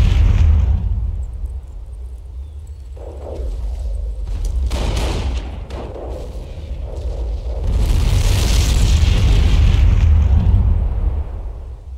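Shelling bursts hammer a forward emplacement in Company of Heroes, set during a Carentan counterattack: heavy, rumbling booms roll in repeatedly over twelve seconds, swelling loudest toward the end amid a continuous low battlefield din, with no voices.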